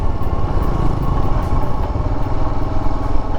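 A motorcycle rides through the hills of Kodaikanal in Tamil Nadu, its engine a loud, close, steady throbbing drone with rough low rumble and wind noise that continues unbroken throughout.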